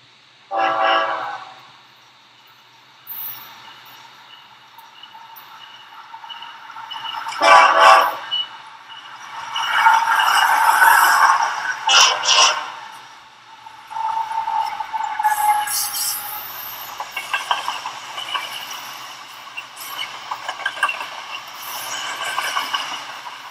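A BNSF freight train runs between Barstow and the Los Angeles yard, its horn sounding in several loud blasts over a steady rumble and clatter of passing cars, with no talk.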